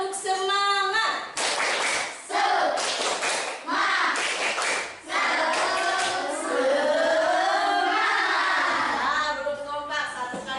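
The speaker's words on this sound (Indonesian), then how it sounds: "Tepuk semangat." Classroom of children doing a rhythmic spirit clap together, with bursts of clapping in patterned groups alternating with chanted voices, fairly near.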